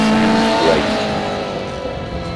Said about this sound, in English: You can hear the whine of the straight cut quaif box, the howl of the Weber carburetors.